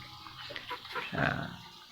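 A guard dog on a banana farm makes a short, low growling bark-like sound close by, with some background noise and no speech.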